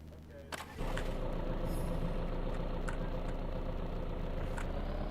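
A van engine in the survival game VEIN starts up and settles into a steady, loud idle with a low rumble, after a brief moment of near quiet.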